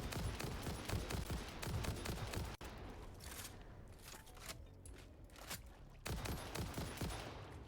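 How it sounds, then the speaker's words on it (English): Gunfire from a hostile enemy in the factory-building game Satisfactory, dense bursts of rapid shots crackling loudly at the start and again near the end, with a quieter stretch in between. "Something's shooting at us."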